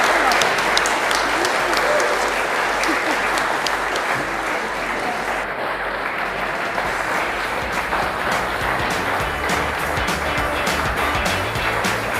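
An audience at an awards night claps steadily for a winner, a dense, sustained round of applause with a low rumble underneath that holds at even loudness throughout.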